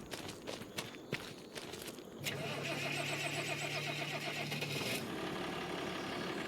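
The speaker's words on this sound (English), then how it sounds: "Let's jump in our tractor and hook up our trailer." A tractor in Farming Simulator 25 follows a few quick footsteps and clicks: the engine starts, then settles into a steady, close mid-pitched idle that runs to the end.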